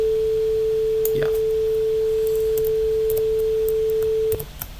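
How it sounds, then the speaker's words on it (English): A plain sine wave test tone produced by Omni code running in SuperCollider holds one steady, loud pitch with a few faint clicks over it, then cuts off abruptly near the end. "Right, we got a sine wave."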